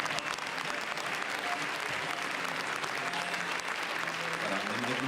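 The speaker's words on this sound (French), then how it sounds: "Toute l'équipe du film applaudit dans la grande salle lumière" Continuous applause in the Grand Théâtre Lumière at Cannes as the film crew and audience clap before a screening, dense and steady with a faint murmur of voices beneath.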